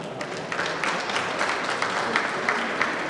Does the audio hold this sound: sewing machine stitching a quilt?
no